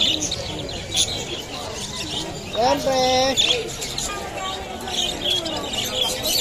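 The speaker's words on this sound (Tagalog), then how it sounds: "Ang daming ibon, no?" Many birds, including budgies and parakeets, chirp and tweet at a busy bird market, with a dense bright chatter of calls throughout and a louder call near the middle while a person talks briefly.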